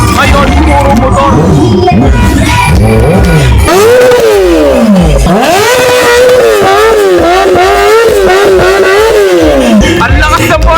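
A Ninja motorcycle engine revs hard and repeatedly at a New Year gathering, its loud whining pitch climbing and falling in rapid sweeps. A noisy crowd chatters and shouts around it throughout.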